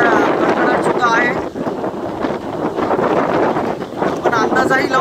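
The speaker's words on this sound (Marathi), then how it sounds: "खूप जोराचा वारा आहे।" Very strong storm wind with lightning about, roaring steadily and loudly across the microphone with gusty swells, while a person speaks throughout.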